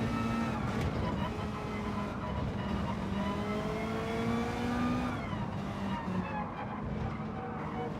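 Lamborghini Huracán race car engines in Gran Turismo 7 Gr.4 lobby racing, a steady roar of high-revving motors with rising and falling pitch as gears change.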